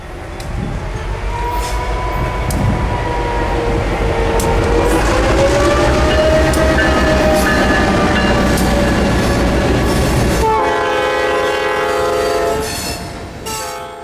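A heavy Clinchfield 800 freight train rumbles past at speed, loud and continuous, with rolling wheel noise and a steady drone before it fades away at the end.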